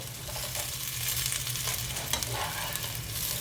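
Skillet home fries frying in a pan and being turned, a steady close sizzle with scraping and clattering stirring sounds, no voices.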